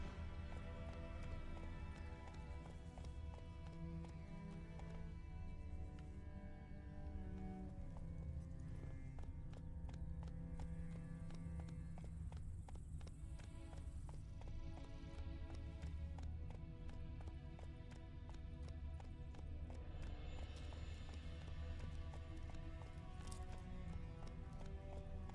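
The horse Roach galloping in a video game, steady rhythmic hoofbeats pounding at a brisk pace throughout, with game music and ambience layered underneath.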